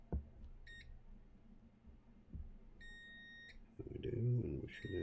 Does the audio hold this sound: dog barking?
no